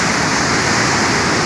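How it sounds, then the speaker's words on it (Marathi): Waterfall at Malshej Ghat in the monsoon, a steady broadband rushing roar of falling water, loud and unbroken across the brief moment. "धबधबा आहे नुसता पांढरा शिपट"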